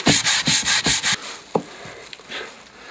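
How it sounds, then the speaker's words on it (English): Cuttlefish bone rubbed flat by hand to form a casting mould for a silver cross: six quick, even scraping strokes close up, then the rubbing stops, leaving a few faint knocks over quiet room noise. "now it'll need to be rubbed flat to have the cross pressed into it to make the mould"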